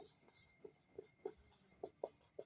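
Pen writing a math solution on paper, close and quiet, with a series of short scratchy strokes in irregular rhythm and no voice.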